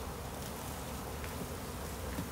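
Steady, dense buzzing of many honey bees from a package being hived, close and continuous throughout, with no voices.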